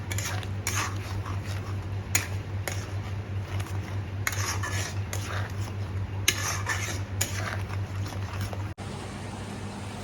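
A spoon scrapes and clinks against a metal pan while coriander powder, turmeric and spices are fried and stirred, giving repeated sharp metallic taps over a steady low background hum.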